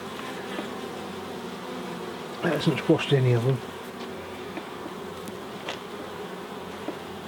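Honey bees swarm and buzz steadily around an open hive tray during a hive check, a dense close hum running throughout while people talk briefly near the middle.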